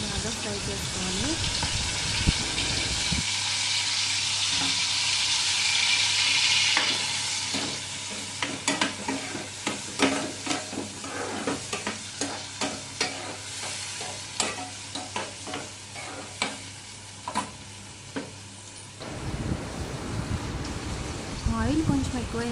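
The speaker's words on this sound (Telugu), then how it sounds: "తర్వాత ఆనియన్స్ వేసి బాగా ఫ్రై చేసుకోవాలి." Onions frying in oil for a curry, a steady hiss and sizzle with a run of sharp, rhythmic spatula scrapes against the pan in the middle, close, with a voice talking at the start and end.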